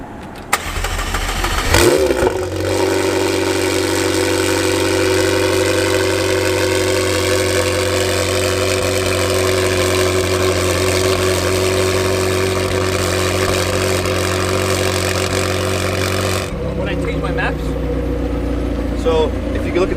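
A tuned twin-turbo Lamborghini with stock sport mufflers cranks and fires up with a loud burst, then settles into a steady deep idle before cutting off, recorded close by with people talking nearby.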